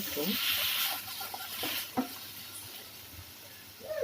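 Chital fish paste is being mixed with turmeric and salt, making soft, wet squelching and stirring sounds close up that rise and fall unevenly, with brief pauses between strokes.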